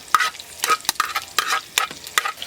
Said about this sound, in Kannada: ಈರುಳ್ಳಿ ಮಾತ್ರ ಚೆನ್ನ ಮಾಡಿ ಫ್ರೈ ಆಗಬೇಕು